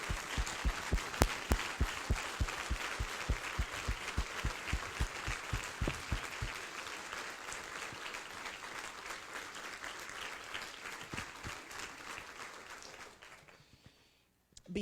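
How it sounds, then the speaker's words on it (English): Audience applause for 2018 turnaround students at a Berkeley County achievement awards ceremony: dense, sustained clapping from a large crowd that holds steady, then thins and fades out near the end. "let us give a Berkeley County round of applause to all of our 2018 turnaround students"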